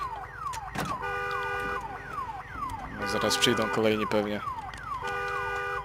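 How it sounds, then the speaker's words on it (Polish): An alarm siren in the video game Days Gone wails in repeated rising and falling sweeps, loud and close, with a voice talking over part of it. "Jeszcze alarm się włączył"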